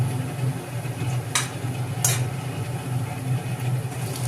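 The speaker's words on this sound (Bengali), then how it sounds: "ওর মধ্যে আদা কুচি, রসুন কুচি দিয়ে ভালো করে নেড়ে নেওয়া হলো।" Chopped ginger, garlic and a dried chilli stirred in hot oil for soya bean manchurian, a constant close hiss of frying with a couple of brief scraping clinks from the pan.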